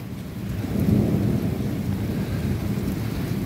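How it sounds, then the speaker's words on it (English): A thunderstorm with heavy rain pouring steadily, a deep rumble of thunder swelling early and rolling on beneath the continuous loud wash of rain throughout. "Now the rain's finally slowing down"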